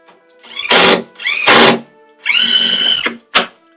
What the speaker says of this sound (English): I like using the 1/4-inch drill bit because then you can just use your drill to pull the leg tight